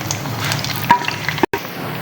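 Two medium chopped onions frying in a pan for black chickpea curry, a close steady sizzle with a few stirring scrapes and a brief cutout near the end.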